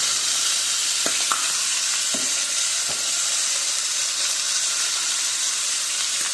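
Beef for tacos sears in a hot pan, giving a constant loud hiss and sizzle with a few faint clicks and scrapes from the pan, heard alone.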